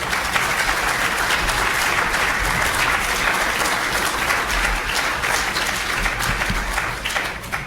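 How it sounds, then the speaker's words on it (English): Audience at a university debate on whether capitalism is moral applauds both debaters, with sustained, dense clapping throughout that stays loud and steady. "Applause for both,"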